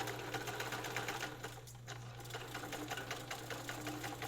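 A restored Viking Husqvarna free-arm sewing machine runs a long straight stitch, a steady close mechanical whir with a low motor hum and rapid rhythmic needle clatter throughout.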